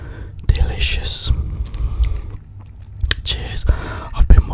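Close, wet chewing and crunching of buffalo wings dipped in ranch sauce, in irregular bursts of bites and mastication, with soft whispered talk in between.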